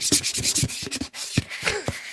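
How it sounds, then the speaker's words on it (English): Paper flight strips being jammed into an overfull strip box, producing a rapid series of close rubbing, scraping and scuffing sounds in short irregular bursts. "when you try to put too many strips in that box, this is the sound"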